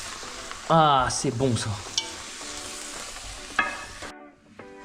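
Vegetables stirred in a hot pan while cooking samosa and enchilada fillings, a steady sizzle and frying hiss with scraping stir strokes, close and fairly loud, under brief speech near the start.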